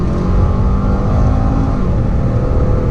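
A tuned 2010 Lincoln MKS with a 3.5-liter EcoBoost twin-turbo V6, around 500 horsepower and all-wheel drive, pulls hard under acceleration, giving a loud, steady engine roar heard from close by with no talking.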